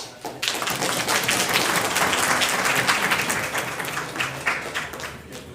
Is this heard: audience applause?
yes